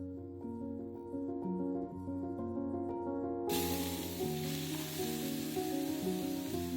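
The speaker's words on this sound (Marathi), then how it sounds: "तूप गरम झालं की किसलेलं गाजर घाला आणि छान परतून घ्या." Grated carrot sizzles in hot ghee in a kadhai for gajar halwa, a loud steady hiss that swells sharply partway through and then continues, with a low hum underneath and no talk.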